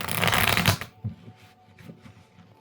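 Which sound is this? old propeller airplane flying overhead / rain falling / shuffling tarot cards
shuffling tarot cards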